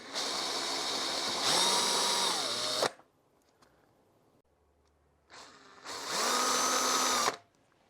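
A power drill drives screws in two separate bursts, each whining up to a strained high pitch for a couple of seconds, separated by a quiet pause, loud and close.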